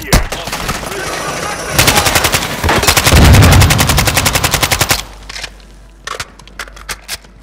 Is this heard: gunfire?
yes